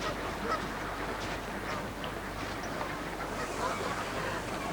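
A large flock of around two thousand ducks and swans calls steadily on a lake, a dense continuous chorus of honks and quacks, with no talking.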